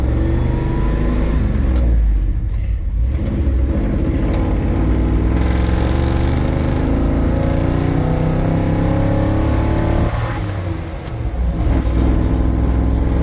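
A vehicle on 37-inch tires with 3.55 gears pulls away in first gear, its engine droning loud and close with a steady rumble that briefly eases twice, as if between shifts or throttle changes.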